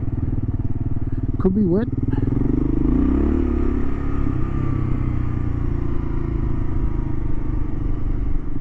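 A Kawasaki KLR 650 motorcycle rumbles steadily across a loose paddock, its single-cylinder engine loud and close throughout, while a rider talks briefly over it.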